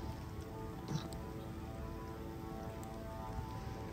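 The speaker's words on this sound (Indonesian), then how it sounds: "Ini masih hujan." Steady rain patters on a surface just before snowfall, an even hiss of drops close by with no voices.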